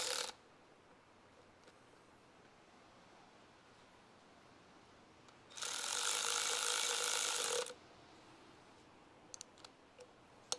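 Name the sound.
tightening bolts with a 9/16 socket ratchet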